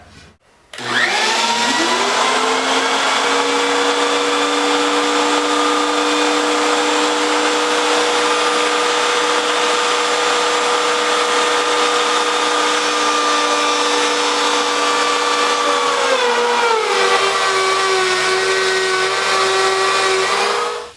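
A power tool cutting dadoes in boards for a mobile sanding center spins up abruptly and holds a loud, steady whine, with its pitch dropping slightly near the end before it stops, no talking.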